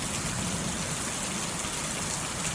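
Steady rain pours down, a loud, dense hiss of drops striking surfaces that holds constant throughout, with no voices.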